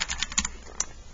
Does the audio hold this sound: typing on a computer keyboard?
yes